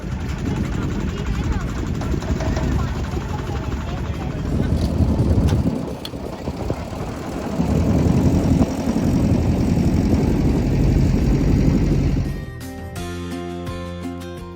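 A motor boat engine drones loud and close on the Ganges at Assi Ghat at dawn, a steady low rumble that swells and dips, with talk over it and a bell-like ringing near the end.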